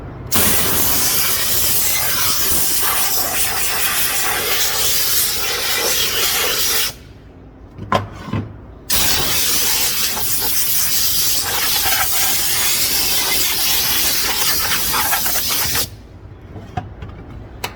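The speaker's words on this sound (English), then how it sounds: "I'm gonna blow out all the little creases and seams to get out any little dust particles from grinding or welding." Compressed air hisses in long continuous blasts into the seams of a lower A-arm being prepped for welding, a loud steady spray broken by two brief pauses, with no talking.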